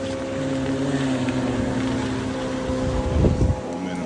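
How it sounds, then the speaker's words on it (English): A bass boat roars past on open water, its engine a steady loud drone with wind buffeting the microphone, peaking in a brief splashing surge near the end. "We got a guy flying down here in his bass boat. I can hear him."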